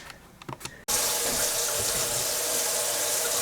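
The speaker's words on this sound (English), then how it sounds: "I'm going to wash the cookie jar and I'll be right back" A kitchen tap is turned on full to wash a cookie jar in the sink, a sudden loud steady rush of running water after a few soft handling clicks.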